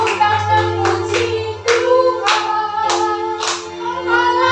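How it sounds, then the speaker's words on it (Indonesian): A church congregation at a Saturday service claps in rhythm with praise singing, evenly spaced hand claps sounding over a loud sung melody with sustained music underneath. "tepuk tangan puji"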